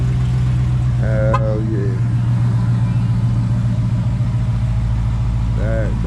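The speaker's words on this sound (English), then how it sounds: "He just started his car from his phone, man." A Dodge Hellcat's engine, started remotely from a phone, rumbles at a loud, steady idle close by, a deep continuous drone throughout while someone talks briefly over it.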